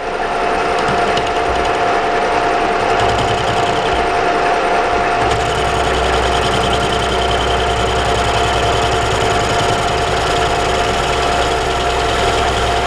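A lathe rough-turns a pulley for a round belt, taking 2 mm off the top at 0.14 feed: a steady, loud continuous machine drone with a constant whine and a low cutting rumble that deepens partway through.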